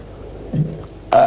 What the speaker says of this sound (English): you would have to belch as well